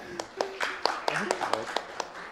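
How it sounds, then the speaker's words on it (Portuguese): A small seminar audience claps for a presenter giving his fourth talk, a few separate sharp claps spaced irregularly over a quiet room rather than a full ovation. "palmas para ele"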